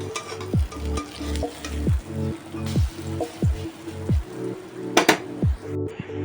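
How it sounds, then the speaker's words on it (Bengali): Poppy seed fritters fry in hot oil in a pan, a steady close sizzle and bubble broken by repeated scraping stirs and turns at an uneven rhythm, with no voices. "তো এই যে কিছুটা বড়া ভেজে নিয়েছি"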